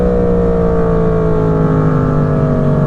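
Yamaha FZ10/MT10 motorcycle accelerating hard and short shifting through first and second gear, a loud, steady, close engine roar with rising harmonic pitch throughout.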